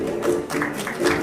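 Audience applause at a cultural ambassadors election ceremony in Villa Angela, a burst of clapping with a faint voice mixed in, rising and falling in a few waves.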